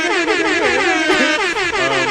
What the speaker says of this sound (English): Air horns are going right here.